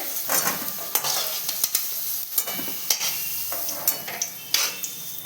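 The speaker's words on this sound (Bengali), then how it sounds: "এবার লাল লাল করে ভেজে নিই আলুগুলো" Potatoes fry in hot oil with a steady sizzle, broken by repeated scrapes and clacks of a spatula stirring the pan.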